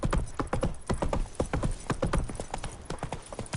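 Horse hooves clip-clop in a quick, steady trotting rhythm, crisp and close, in the fantasy game The Witcher 3: Wild Hunt.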